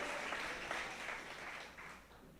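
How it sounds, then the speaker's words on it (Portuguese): A church congregation applauds during a Portuguese-language worship service, a steady wash of clapping that holds fairly even and then thins toward the end, heard at a low level. "Vamos aplaudir o Senhor por isso?"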